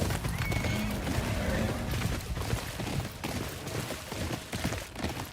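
A horse in the Ghost of Yotei video game whinnies loudly over close, continuous clip-clopping hooves, with a dense layer of other game sound underneath.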